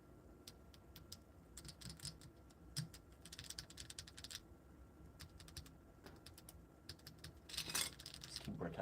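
Keystrokes clatter on a KBDcraft Lilith Lego-built mechanical keyboard with PE foam, in uneven bursts of quick clicks and pauses, close and fairly quiet, with a louder flurry near the end.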